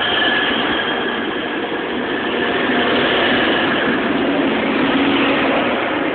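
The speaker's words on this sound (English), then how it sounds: "Here we are, departing Doncaster for Bradford, going to Bradford interchange." A Grand Central passenger train departs Doncaster station bound for Bradford Interchange, filling the platform with a loud, steady rumble of wheels and engine and a faint squealing tone throughout, with no talk.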